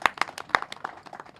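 A few scattered, uneven claps from an audience at the launch event for a Telugu film, Mr. Beggar. They come as sparse, sharp bursts, fairly close, with no steady applause building up.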